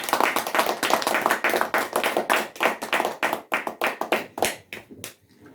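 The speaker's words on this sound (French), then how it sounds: "Acclamer très fort pour Jésus" A church congregation applauding for Jesus, dense fast clapping from many hands that continues steadily and then thins out toward the end, with no cheering voices standing out.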